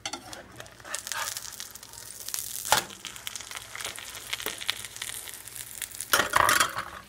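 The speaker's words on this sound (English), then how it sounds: "We're making omelets." Omelets cooking with leftover turkey, peppers and onions, a close mix of sizzling, scraping and clinking utensil sounds with a few sharper knocks.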